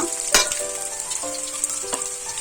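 Sliced onions with dried red chillies frying in a pan for a pumpkin palya: a constant crackling sizzle with sharp spatula scrapes and clinks against the pan, close and alone with no talk.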